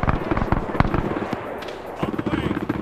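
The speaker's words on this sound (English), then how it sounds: "Follow the gunfire" Rapid bursts of distant gunfire in a WW2 German-versus-Soviet video game battle crackle and pop in uneven clusters, with a brief lull in the middle before more shots, voices faintly underneath.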